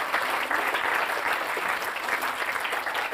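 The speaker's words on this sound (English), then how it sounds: "another massive round of applause for our judges" Sustained applause from a large crowd at an awards ceremony, dense and steady clapping throughout with no break.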